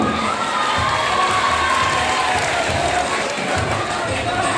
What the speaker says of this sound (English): let's give a big round of applause for our sir